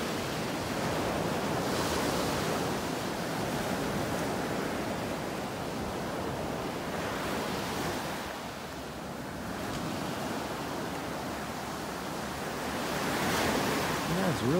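Ocean waves washing onto a beach in North Naples, Florida on a morning walk, a continuous broad surf roar that swells and eases in slow cycles, with some wind buffeting the microphone.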